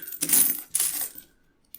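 Handful of 90% silver dimes dropped onto a mat, a dense metallic clinking and jingling in two close bursts followed by a brief final clink, loud and near with no talking.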